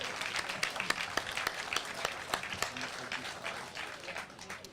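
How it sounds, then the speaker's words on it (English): An audience at a Metro operator of the year award ceremony applauds, a moderate crowd of distinct hand claps that swells and then thins out over several seconds, with faint voices beneath. "so let's give him a big round of applause"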